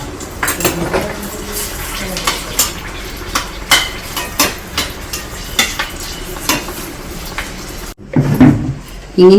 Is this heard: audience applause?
no